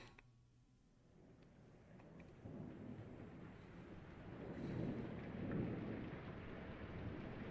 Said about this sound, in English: Oh, that rain sound.